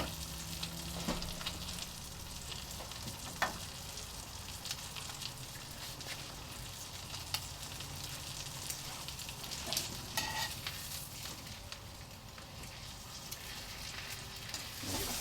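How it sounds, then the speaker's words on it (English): Paua, the New Zealand abalone, fries in a pan with a continuous, busy sizzle, scattered sharp crackles and pops throughout, close and fairly quiet, with no voices. "So we'll just let that fry away in there for a few minutes."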